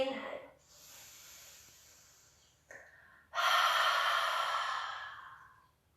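Deep breathing during a seated chair yoga session: a soft exhale, a pause, then a long, loud inhale that gradually fades, close and clear with a faint hum underneath.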